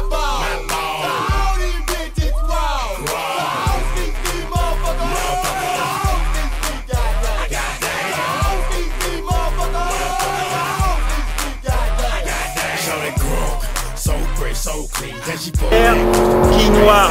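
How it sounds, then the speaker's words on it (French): A Mercedes AMG race car on a track roars through repeated hard acceleration, its engine revving up and shifting in loud rising surges with brief tire squeal, heard close from inside the cabin, with a voice speaking over it. "On tient bien le volant, on accélère."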